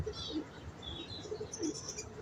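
Pigeons kept by a fancier coo softly in a steady, low, overlapping murmur, with a few higher chirps and tweets on top and no talking.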